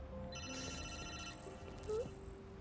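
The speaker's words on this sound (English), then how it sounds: "Oh, somebody got the phone call coming through." A phone rings in the video game Detroit: Become Human, with bright layered electronic tones repeating over quiet in-game background sound.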